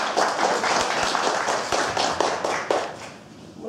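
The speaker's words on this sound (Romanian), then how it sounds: "Haideți să o și aplaudăm" Audience claps at a children's drawing contest event in a store setting; brisk, dense applause with distinct individual hand taps, easing off near the end.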